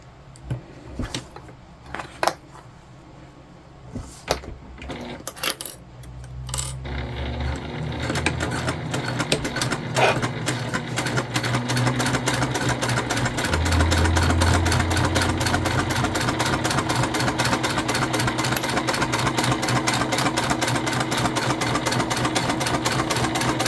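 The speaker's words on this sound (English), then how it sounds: "we're just going to stitch across the top and the bottom at the seam allowance given in the pattern" A sewing machine stitches a seam across the top and bottom of a convertible bag, right sides together. The steady motor hum runs continuously for most of the stretch after a few sharp bumps and handling noises at the start.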